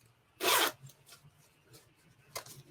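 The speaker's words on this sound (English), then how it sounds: "They also have the zip ankles" A zipper on the ankle of a pair of jeans is pulled open in one quick, close rasp, followed by a few softer scrapes and a second short zip near the end.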